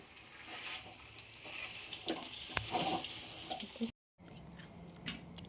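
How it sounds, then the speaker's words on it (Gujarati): Dates roasting in ghee in a pan give a steady close sizzle and frying crackle with occasional stirring scrapes, broken by a brief silence near the end. "આપણે આમાં 3 થી 4 મિનિટ ઘીમાં આપણે આ ખજૂરને શેરવવાની છે"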